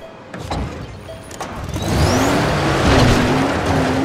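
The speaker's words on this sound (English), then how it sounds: "I'm using the metal rat car." The Metal Rat car in Dying Light drives with a close engine drone that climbs in pitch and grows louder as it speeds up, alone without talk.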